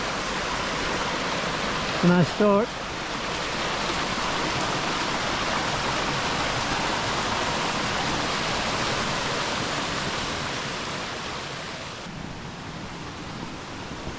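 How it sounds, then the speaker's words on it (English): Small cascades tumbling down from Greenhead Gill make a steady, close rushing of clear water, loud and continuous throughout, with someone briefly speaking near the start. "Nice little cascades along here. Presumably these come down from Greenhead Gill."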